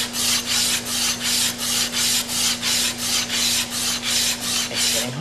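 A steel chisel back rubbed on 80 grit sandpaper in steady back-and-forth strokes, about twelve even rasping passes close up with a constant low hum beneath.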